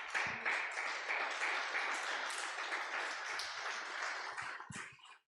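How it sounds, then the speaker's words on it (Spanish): A church congregation breaks into loud, sustained applause during a Spanish-language sermon, dense clapping filling the space steadily for about five seconds before stopping abruptly. "Dale un fuerte aplauso a Dios"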